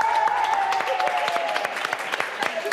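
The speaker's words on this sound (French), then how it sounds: "Allez, applaudissements les amis." An audience applauds in a studio, a dense patter of clapping hands at moderate loudness that continues steadily for a few seconds, with a faint tone and some voice underneath.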